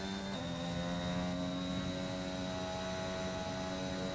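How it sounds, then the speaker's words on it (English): In the F1 2021 video game at the Austrian Grand Prix, a Formula 1 car with DRS open revs its engine out on a lap, a sustained high, steady droning whine with one slight pitch shift near the start. "He's got the DRS open and he's revving the engine out"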